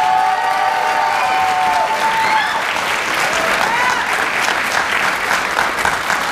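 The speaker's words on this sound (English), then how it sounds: "So give those that group a round of applause one more time." A crowd at a black belt graduation ceremony breaks into loud, sustained applause with some cheering and voices mixed in, steady for the whole stretch.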